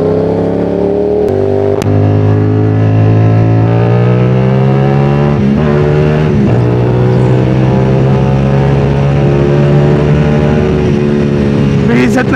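Okada 450SR motorcycle engine at speed, loud and close, its steady drone climbing in pitch through gears shifted without the clutch, with brief dips and a sharp blip near the end.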